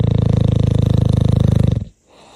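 Bubba, a pet dog, snores in his sleep with a steady, rapid rattling rumble, loud and close, before it cuts off abruptly into quiet.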